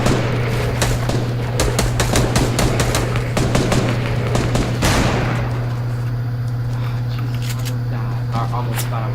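Rapid, loud bursts of minigun fire in an online shooter game, a dense rattling stream for several seconds that then breaks into scattered shots, with players talking over it.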